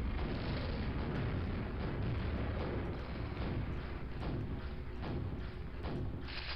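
Rocket explosions in Quake Mission Pack 2: Dissolution of Eternity, a steady run of dull, booming blasts with rumbling low-end thuds repeating over several seconds at moderate loudness.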